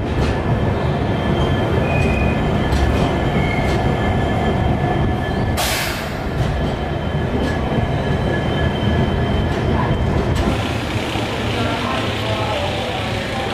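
Express train pulling into Jaipur railway station, with a loud, continuous rumble of rolling wheels and carriages, faint squeals and a brief hiss, heard close from the platform.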